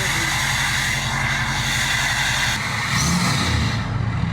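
A 2019 Ford F-450 Platinum engine runs with a loud, steady jet-like roar and rhythmic low throb, close up, swelling slightly toward the end with no talking.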